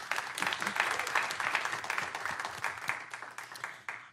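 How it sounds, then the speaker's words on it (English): Audience at a city council meeting applauding after an invocation, a dense, steady round of clapping from a roomful of people that gradually tapers off. "Everyone, please give him a round of applause as well."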